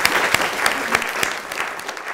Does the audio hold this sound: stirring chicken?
no